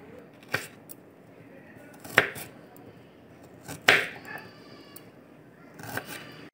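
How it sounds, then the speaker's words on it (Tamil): Knife chopping small onions in half on a board, four sharp, fairly quiet cuts spaced about a second or two apart, with faint background noise between strikes. "இதில் வந்து வெங்காயம் வந்து நம்ம கட் பண்ணுறோம் பாருங்கள்"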